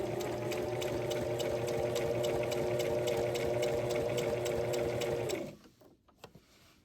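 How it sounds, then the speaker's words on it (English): Beginner's sewing machine running fast and steady under foot-pedal control, a close, even mechanical whir with rapid regular needle ticks that stops abruptly near the end, followed by faint handling clicks. "You will press the foot controller to begin sewing, adjusting the speed as needed."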